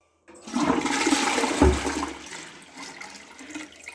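A toilet flushing indoors at home, a loud close rushing whoosh of water that gradually subsides into quieter refilling, with no talking.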